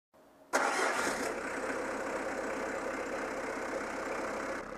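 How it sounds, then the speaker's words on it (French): A Peugeot 309 GRD diesel engine cranks briefly and catches, then settles into a steady, close, rattling idle for several seconds with the bonnet open during radiator work. "Et je vais démarrer le moteur 2 minutes."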